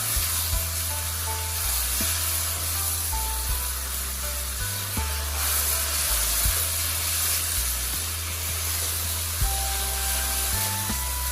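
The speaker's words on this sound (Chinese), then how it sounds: "继续转大火快速的翻炒，让里面所有的食材都充分的吸收料汁的香味" Bitter melon and pork slices being stir-fried with sauce in a wok over high heat, giving a steady loud sizzle and hiss with repeated scraping and tossing strokes, no talking.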